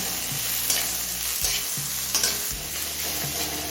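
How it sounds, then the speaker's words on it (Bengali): Pieces of a medium tomato frying in a pan after onions have been browned: a steady, close sizzle with occasional scraping stirs of a utensil, no voices. "এবার এই টমেটো নরম হয়ে আসা পর্যন্ত ভেজে নেব"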